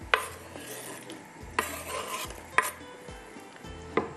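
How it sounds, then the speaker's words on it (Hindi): Chopped onion cooks in Shahtaj cooking oil in a pan, giving a soft, continuous sizzle with a spoon clinking against the pan four times at a steady pace, no talking. "प्याज को हमने कट कर लिया और ये जाएगा अभी पैन में, ऑयल जो डाला हुआ है शाहताज कुकिंग ऑयल उसके अंदर।"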